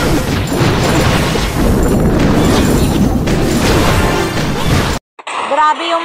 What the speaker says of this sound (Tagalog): so pag pumutok yung lava, magiging ganyan, parang mga apoy.